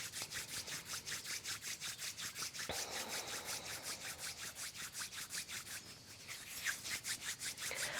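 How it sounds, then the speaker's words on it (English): Palms rub briskly together during a yoga practice for period pain, making a close, steady rhythmic swishing of repeated strokes for several seconds, with no talking. "Rub your hands together, create a warm friction between your palms."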